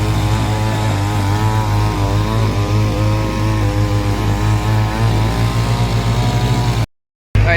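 A tractor-driven wood-cutting machine drones steadily and loudly nearby with a harsh, buzzing engine tone, running continuously before cutting out abruptly near the end.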